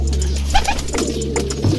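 Racing pigeons coo softly nearby in short throaty bursts, with some rustling and faint background hum.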